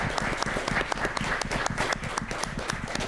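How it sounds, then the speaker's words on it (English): An audience at a workshop-report session of a video conference claps in a dense, steady round that runs for the whole stretch, with no talking over it. "I want to do a final round of applause, especially for Lindsay Forbes"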